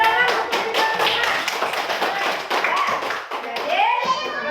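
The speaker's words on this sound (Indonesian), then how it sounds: "Bapak tepuk tangan untuk teman-teman" Students in an Indonesian classroom clap for their classmates, a brisk, steady patter of many hands close by, with children's voices chattering over the clapping.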